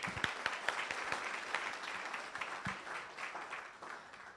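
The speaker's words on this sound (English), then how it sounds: "May we please give her a round of applause." An audience at an ICT seminar claps in a soft, fairly distant round of applause, scattered individual claps blending into a steady wash.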